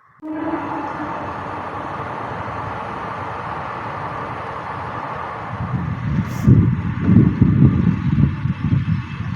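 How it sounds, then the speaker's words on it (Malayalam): A train rumbles by nearby, starting as a steady droning hum and growing into louder, rattling clatter toward the end. "വേറൊരു ട്രെയിൻ പോവുകയാണ് കണ്ടില്ലേ"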